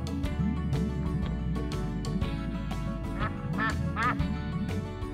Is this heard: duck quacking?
yes